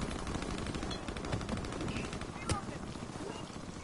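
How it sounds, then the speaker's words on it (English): Rapid automatic gunfire rattles through a first-person shooter video game, dense continuous bursts with a sharper shot standing out midway, loud and busy throughout. "Whoever's shooting me from respawn"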